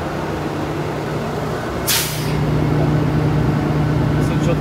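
A truck's air suspension airbags inflate with a short sharp burst of air, then a steady hum of air filling continues, close and loud.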